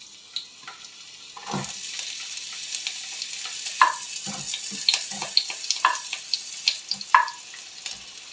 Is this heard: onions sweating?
yes